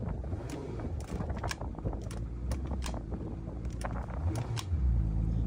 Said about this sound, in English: That reverse is a little bit ratchety